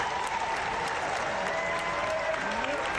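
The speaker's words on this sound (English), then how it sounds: "the people that are applauding should be joining" A crowd at a commencement ceremony applauds in a steady, dense patter of many hands clapping, moderately loud and continuous for the whole stretch, with faint voices mixed in.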